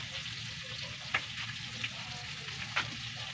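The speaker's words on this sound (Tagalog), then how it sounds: "tapusin ko na itong prito" Pork frying in a pan at a rural island home gives off a steady, quiet sizzle, broken by a few sharp crackles and pops from the hot oil.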